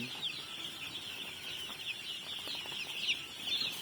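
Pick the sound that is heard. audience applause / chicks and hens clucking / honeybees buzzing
chicks and hens clucking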